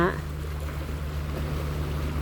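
A cargo ship on the sea off Hong Kong on an overcast evening produces a low, steady droning hum under faint wash, after a brief voice at the very start.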